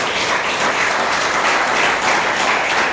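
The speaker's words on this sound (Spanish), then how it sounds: "Dele un aplauso a Jesucristo." A church congregation applauds during a Spanish-language sermon, steady dense clapping from many hands that fills the space evenly and continuously with no pauses.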